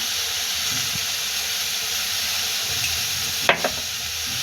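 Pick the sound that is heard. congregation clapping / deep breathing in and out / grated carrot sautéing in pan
grated carrot sautéing in pan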